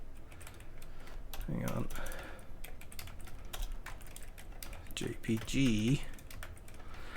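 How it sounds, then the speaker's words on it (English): Rapid keystrokes on a computer keyboard clatter in bursts close to the microphone, with someone speaking briefly between runs of typing. "I can't type when somebody's looking."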